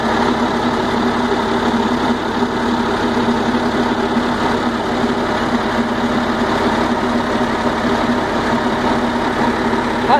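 A Bristol VR bus diesel engine, running without its air filter, idles steadily at close range, a constant throbbing rumble with a faint rattling knock and no change in pace.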